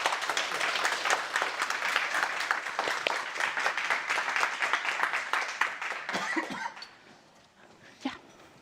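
Audience at an AI child-protection summit gives sustained applause after a panel discussion, dense clapping filling most of the clip before thinning out, with a few coughs and scattered claps near the end.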